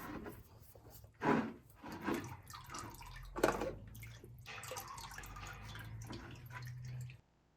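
Engine oil drains from a John Deere 790 tractor into a drain pan as a steady, faint liquid trickle with a few soft knocks and drips, close by, with no voices.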